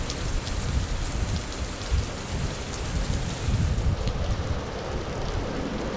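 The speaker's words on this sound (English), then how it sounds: "we're caught out in the rain right now" Steady rain pours outdoors, a dense continuous hiss and patter with no talk over it, loud and even throughout.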